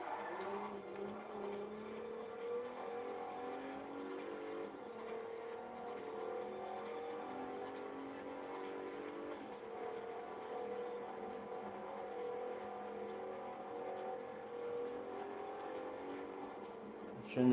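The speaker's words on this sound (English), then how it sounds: "Yes, we're drifting. A front wheel drive." Front-wheel-drive car drifting in Forza Horizon 4, a steady engine drone held at constant pitch throughout with no talk.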